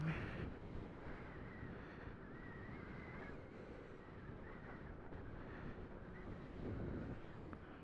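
Strong, steady wind buffets the microphone while riding a high-speed 15000-watt electric bike, a dense roaring rush that continues throughout with slight surges, and no clear speech.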